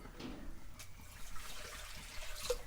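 Water poured into an iron pot for a Kerala country chicken curry: a faint, soft splashing and trickling that rises and falls over a few seconds.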